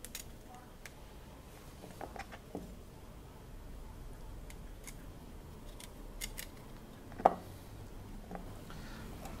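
A knife cuts cassava into quarters and removes the core in a kitchen, producing scattered quiet clicks and blade taps on a board, with one sharper tap near the end, over low background noise.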